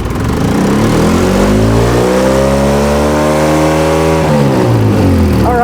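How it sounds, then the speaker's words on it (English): A car engine with a helicopter-like sound and a dozen check engine codes revs up, climbing steadily to a sustained high pitch and then dropping back, loud and close with no talk. "Let's add some RPM."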